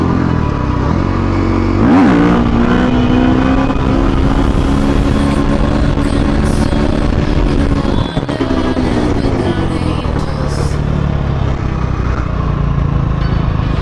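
A Romet Ogar 49 cc moped riding, its small engine buzzing loudly and close with a rising rev near the start, then holding a steady drone with slight pitch shifts.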